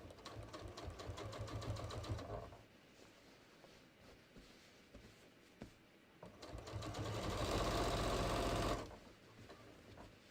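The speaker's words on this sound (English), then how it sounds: "I'm going to top stitch over that and top stitch down." A sewing machine topstitches down the crotch seam of a pair of jeans, whirring steadily in two close, loud runs with a quieter pause between them.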